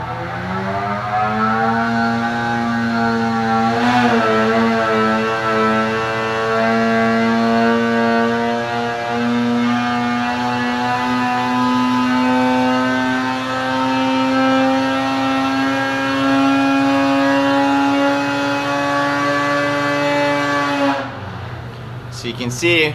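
2020 Cat Alpha Riot snowmobile engine with a Bikeman Stage 2 setup running at high RPM on a dyno, giving a loud, sustained, siren-like whine that climbs slightly and holds steady before cutting off near the end.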